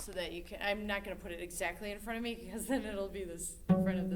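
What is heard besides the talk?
No everyday noise stands out behind the speech.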